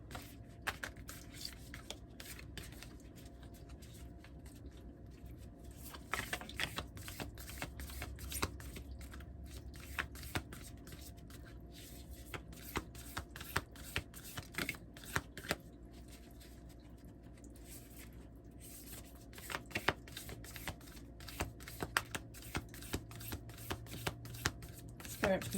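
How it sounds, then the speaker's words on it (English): Heart-shaped tarot cards are shuffled repeatedly in a long run of soft, close riffling patter with sharp flicks, under intermittent quiet talking. "cards are kind of difficult to shuffle because they're in a heart-shaped form."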